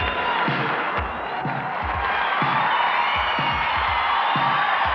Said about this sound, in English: Wow, look at that crowd.